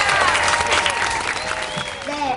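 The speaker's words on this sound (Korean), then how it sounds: "크게 박수 소리로 환영해 주시면 좋겠습니다" Children's Sunday worship group at a Korean church clapping to welcome a child: moderate applause with a chattering of voices and tonal sounds mixed in throughout.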